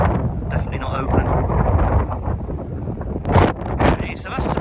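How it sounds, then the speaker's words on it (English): Strong Storm Darragh wind batters a seafront promenade, roaring steadily across the microphone with gusty surges and louder buffeting bursts near the end. "Very windy."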